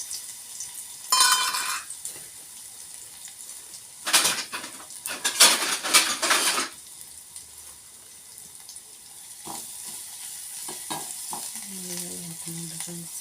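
Garlic frying in a pan for a North Karnataka dish, bursts of loud sizzling and spattering at about 1 and 4 to 6.5 seconds, then quieter stirring and clinks, with no talk.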